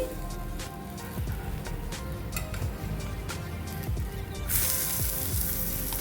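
Sweet potato pancake frying in butter in a pan, a steady close sizzle with scattered crackling pops throughout, louder and brighter hiss toward the end, no voices.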